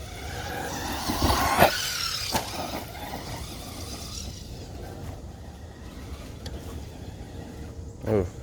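A Traxxas Rustler 4X4 RC car spins out, its small electric motor whining in short revving bursts with sharp skids and a whine near the end, over outdoor background noise.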